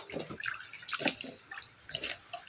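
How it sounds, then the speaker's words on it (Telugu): Water is sprinkled by hand onto plants growing in an oil tin, soft irregular splashes and drips in short bursts, quiet and close. "ఇప్పుడు వాటర్ అంతా చిలకరించుకుంటా"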